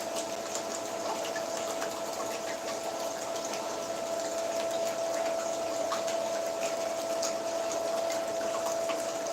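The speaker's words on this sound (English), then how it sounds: "Wasn't sure if this water is going to overpower my voice." Water runs in a steady, fairly loud wash with a constant tonal hum layered through it, continuing unbroken and with no one speaking.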